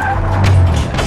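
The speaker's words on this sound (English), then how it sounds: "3-1, enemy vehicle is inbound." Vehicle engine roaring close and loud in Call of Duty: Modern Warfare, a brief steady rumble with tire noise as the enemy vehicle approaches.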